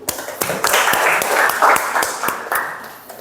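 A small classroom group claps for a presenting group during a teaching assessment, loose scattered hand claps with distinct individual strikes, fairly close, with no speech over them.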